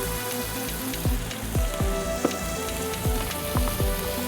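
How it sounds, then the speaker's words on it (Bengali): Beef frying on high heat with vinegar, red chilli and sugar for a beef capsicum bhuna, a steady close sizzle with periodic bursts and crackles repeating roughly every half second. "এটাকে হাই হিটে ভাজতে হবে"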